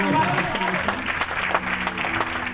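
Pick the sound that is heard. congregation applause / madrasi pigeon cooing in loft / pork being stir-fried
congregation applause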